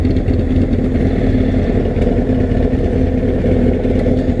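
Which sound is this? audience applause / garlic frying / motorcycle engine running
motorcycle engine running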